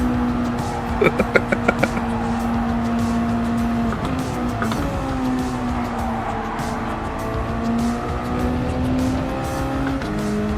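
MX-5 Cup race cars in Gran Turismo, engines droning steadily with shifting pitch as they run through corners, a short burst of rapid clicks early on, no talk.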